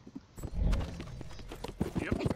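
A horse's hooves clip-clop in the Red Dead Redemption 2 video game, a run of uneven thudding steps close by, while someone talks over them.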